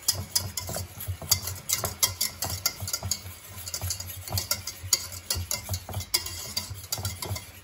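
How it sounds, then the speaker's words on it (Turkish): Spoon stirring soup in a pot on the stove, a busy run of scraping, clinking strokes in uneven rhythm over a soft sizzle, close and moderately quiet, no talking. "Şöyle bir karıştırıyorum."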